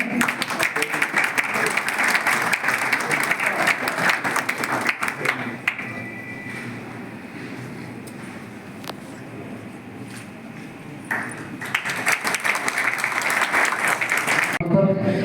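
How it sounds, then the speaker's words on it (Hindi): An audience at a ceremony claps loudly and steadily to welcome a legislator. The applause fades midway, then swells again, with a voice speaking faintly beneath it. "जोरदार ताली के साथ स्वागत करेंगे।"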